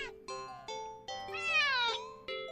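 A cat meows repeatedly, several short separate calls followed by a longer drawn-out yowl that rises and falls, then another brief meow, clear and close.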